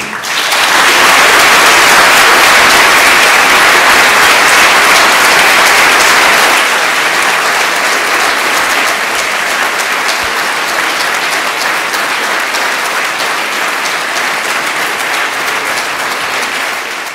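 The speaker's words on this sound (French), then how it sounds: "Je pense qu'on peut vous applaudir." A lecture-hall audience at an academic symposium applauds after a speech, a loud sustained wash of many hands clapping that eases slightly after the first few seconds and continues steadily.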